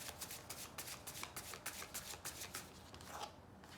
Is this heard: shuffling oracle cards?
yes